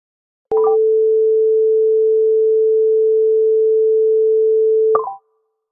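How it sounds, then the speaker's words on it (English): A loud, steady pure tone, higher pitched and standing in for a shorter-wavelength wave, sustains evenly for about four and a half seconds, opening and closing with a short click. "the second sound is a high frequency with shorter wavelengths"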